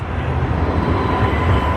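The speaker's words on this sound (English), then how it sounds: "There it is. See, you get the tram all the way along." An Edinburgh tram passes on a city street, a loud, steady low rumble and roar that stays close for the whole stretch, with no talking.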